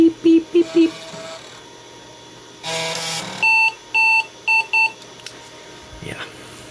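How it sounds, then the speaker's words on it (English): Beeping from a Compaq Deskpro 286e computer: a run of four short, evenly spaced high tones near the start, then a longer burst and several more clear beeps, with voices talking in between. "Beep, beep, beep, beep."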